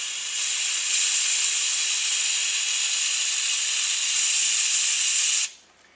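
Compressed air hisses steadily and loudly through a nozzle into the oily cylinder head of a truck engine during injector replacement, a constant high rush lasting several seconds before stopping sharply.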